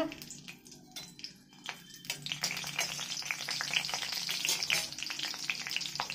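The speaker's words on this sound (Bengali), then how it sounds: "এতে দেবো চেরা কাঁচা লঙ্কা" Slit green chillies drop into hot mustard oil in a kadai, bursting into crackling spatters and sharp pops that build into a dense, close sizzle, with no talk over it.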